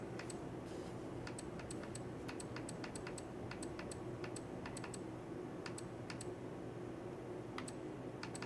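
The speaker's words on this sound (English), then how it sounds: "I blame a controller, so you guys can hear that click, click, click. You can hear those presses." Game controller buttons pressed repeatedly during Forza Horizon 5 play, giving sharp, close plastic clicks in irregular bursts over a steady low background hum, with no talking.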